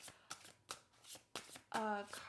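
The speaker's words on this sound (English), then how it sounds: "when I was shuffling the tarot cards" Tarot cards being shuffled by hand, a series of quick, close riffling bursts with brief pauses between them, followed by a short voice near the end.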